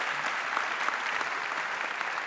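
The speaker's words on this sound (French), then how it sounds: "Mais applaudissez-vous vraiment, je suis très heureux d'être ici." Sustained audience applause fills the hall at a francophone film awards ceremony in Beirut, a dense, steady wash of clapping with no voices over it.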